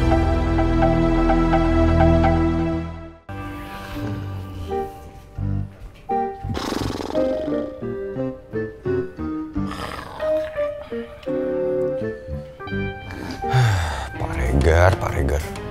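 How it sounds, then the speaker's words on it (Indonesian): A person snores in loud, rasping, roar-like breaths that rise and fall in irregular waves, close up, with a sustained tonal drone at the start. "Sekarang udah ngorok kayak gitu sih."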